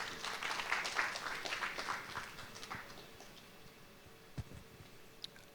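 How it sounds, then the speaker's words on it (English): A forum audience at an ASEAN business event applauds a speaker, a modest clatter of clapping that is strongest at first, then thins out and fades to a few scattered claps and small room noises. "please give him a round of applause"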